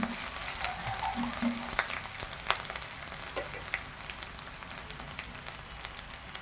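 Ingredients roast in a hot pan for a cowpea-leaf (chavli) vegetable dish, giving a steady, close frying sizzle with scattered crackles and a few soft stirring knocks throughout.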